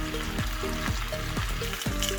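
Chicken wings fry in hot oil with a loud, continuous sizzle and crackle, close up, with a regular stirring or scraping knock repeating about every half second.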